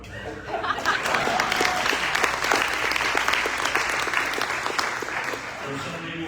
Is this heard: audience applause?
yes